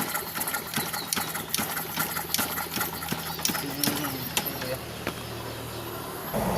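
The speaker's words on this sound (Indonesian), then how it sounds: "Ya saya engkol dulu ya, biar nanti olinya tuh jalan" A Yamaha Jupiter Z1 motorcycle being kick-started, with a rapid series of mechanical clicks and thumps from the kick lever and engine turning over, fairly close and steady, with no clear catch into idle.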